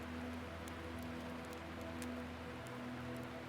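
Steady rain falls on a lake at night, a dense, even hiss of drops striking the water surface that holds unbroken from start to finish with no voices.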